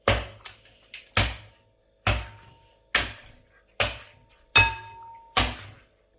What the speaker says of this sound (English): First, crack 7 eggs into the bowl.